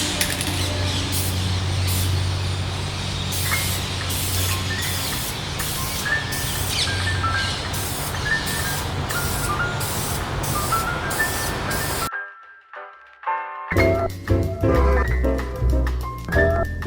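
Candy purple paint sprayed onto brake calipers from a spray can, a steady close hiss running continuously for about twelve seconds, then a short gap and some lighter clattering handling sounds.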